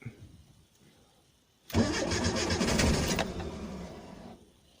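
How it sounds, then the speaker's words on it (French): A 1986 Renault Super 5 GTL with a 1.1 engine cranks, catches and runs roughly for about two and a half seconds, then stalls and dies away into quiet, heard close and loud. "Ok, elle a démarré, elle a calé."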